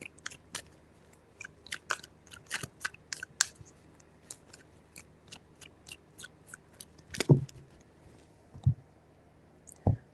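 Tarot cards are shuffled by hand in three rounds during a reading, giving sharp, dry clicks and riffles that come in quick bursts and scattered single snaps, close and fairly quiet, with no talking.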